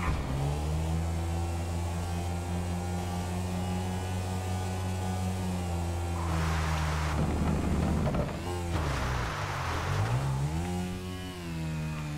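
Engine of a vehicle revving hard for a wheelie in GTA 5, a steady close drone that climbs and falls in pitch, then surges with rough bursts toward the end.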